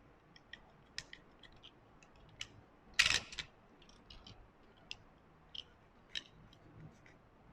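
A popsicle stick segment being cut by hand, heard as one sharp, close snip in the middle of an otherwise quiet stretch with a few faint clicks around it.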